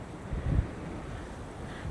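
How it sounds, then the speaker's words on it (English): Steady wind gusting across a pond on a fishing outing, a low continuous rumble on the microphone with a brief stronger buffet, no voices. "Man, it is windy."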